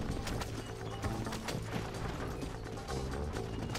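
Rapid, steady hoofbeats of galloping horses in Red Dead Redemption clatter over a dense, busy background of rumbling mechanical noise and music.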